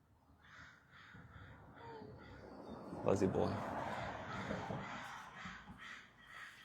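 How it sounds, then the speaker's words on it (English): Crows caw repeatedly at a distance on a morning walk, their calls rising loudest around the middle and continuing throughout, with a person talking over them. "You hear those crows going?"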